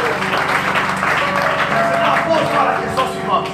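A church congregation claps and applauds continuously, a dense, steady wash of hands that holds at a constant level, with voices mixed in.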